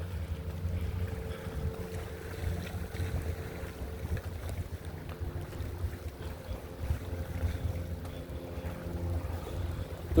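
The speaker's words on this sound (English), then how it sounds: "There's a few boats coming out." Boat engines droning on the water off Tiscornia Beach, a low steady hum with gentle surf and gusty wind buffeting the microphone, fairly close and continuous.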